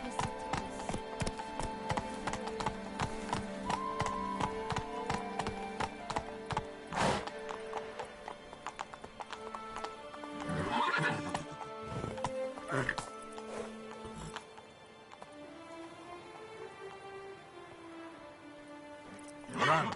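Roach, a horse in The Witcher 3: Wild Hunt Blood and Wine, gallops with steady clip-clop hoofbeats and lets out neighs and whinnies, with game voices and music in the background.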